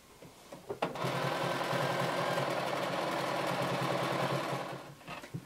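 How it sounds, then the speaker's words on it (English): A sewing machine stitching fabric around the edge of a homemade workout top, running in one continuous steady whirring burst for several seconds after a few short starts, close and alone. "you're going to sew all the way down, all the way around"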